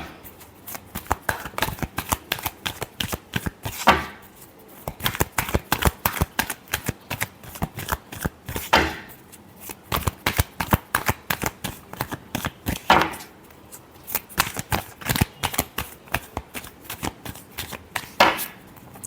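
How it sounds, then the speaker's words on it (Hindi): Tarot cards being shuffled by hand in repeated bursts of crisp riffling and flicking, close and clear, with short pauses between rounds and no talking. "Last shuffle."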